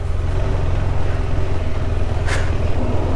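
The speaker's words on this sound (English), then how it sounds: "And the tractor." Tractor engine rumbling close by on a muddy rural road in Ecuador, a steady low diesel drone with a brief louder burst near the end.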